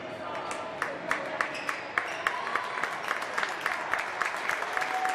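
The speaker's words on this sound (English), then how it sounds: "Wesleyan fans already cheering for their team's victory." Women's college basketball crowd in a gym, with Indiana Wesleyan fans applauding and cheering their team's win; steady mid-level clapping with scattered sharp claps and a faint whistle.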